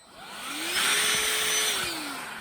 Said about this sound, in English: Just use your household vacuum cleaner.